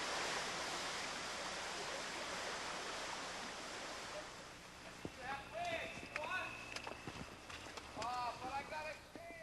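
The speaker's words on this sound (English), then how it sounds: "Ka'aloa, a waterfall that originates in the hills of Waiho'okalo, makes for a fairy tale setting in the back of the bay." Waterfall at the back of a bay on Moloka'i, falling from the hills above, gives a steady broadband rush that eases after a few seconds as a voice begins talking over it.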